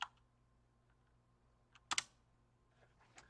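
A computer keyboard being typed on in a quiet room: a few faint, sparse clicks, with one brief cluster of sharper keystrokes near the middle.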